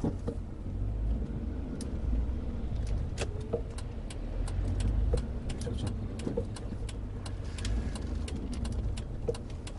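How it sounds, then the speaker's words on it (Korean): A car engine runs steadily nearby with a continuous low, rough rumble; this engine gets harsh and noisy when revved past 3000 rpm. "3000 넘어가면은 소리가 많이 좀 거슬리게 시끄러운 그런 상황이라"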